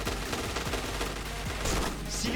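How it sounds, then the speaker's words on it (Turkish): Rapid gunfire from the first-person shooter Point Blank during a 2022 Elite League esports match, with dense overlapping shots forming a steady, loud barrage across the whole stretch and no voices on top. "Johan Faust diğer oyuncuyu da vuruyor."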